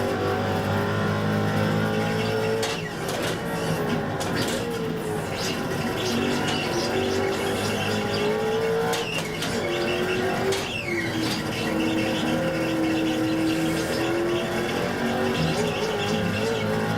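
Race car engines in the iRacing video game drone steadily while passing a Miata, with the pitch rising and falling through gear changes and a brief downshift, all at a continuous loud level.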